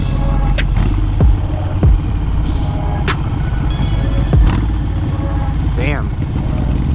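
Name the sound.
Harley Sportster 883 motorcycle engine over-revving on downshift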